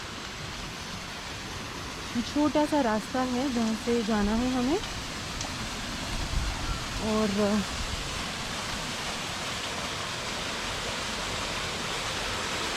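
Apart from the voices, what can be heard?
small stream of water flowing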